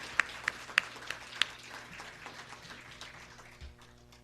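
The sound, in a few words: audience applause for award honorees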